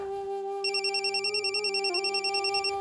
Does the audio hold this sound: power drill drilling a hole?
no